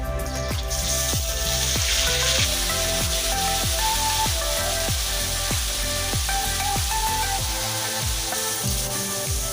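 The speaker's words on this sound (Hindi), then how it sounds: "प्याज के अच्छे से भून लें।" Onions frying in a pan with cinnamon, bay leaf and red chillies for lauki kofta, a loud steady sizzle running throughout, punctuated by a regular series of sharp taps from a spoon stirring against the pan.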